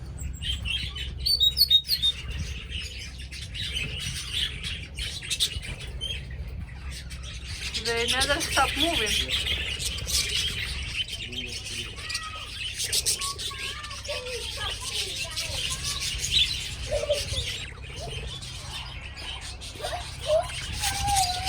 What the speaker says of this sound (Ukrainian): Біля таких квіток з пташками довго не постоїш, вони дуже шумні